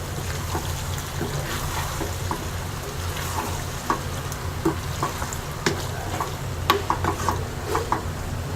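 Chicken and vegetable macaroni pasta cooks in a pan with a steady, close sizzle and occasional clicks and scrapes from stirring. No one speaks.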